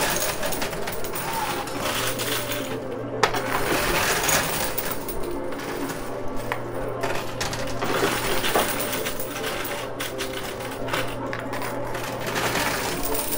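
Quarters dropping and clattering in a high-risk coin pusher machine, a steady dense metallic jangle of many coins over a constant arcade hum with a faint tone.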